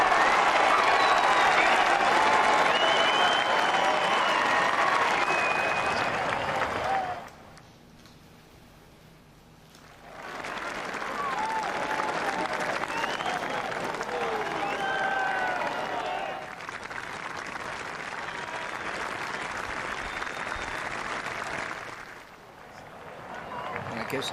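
Loud, sustained applause and cheering from a large golf gallery at the final round of the 2024 Amgen Irish Open, roaring for several seconds, dropping away briefly, then swelling again and tailing off.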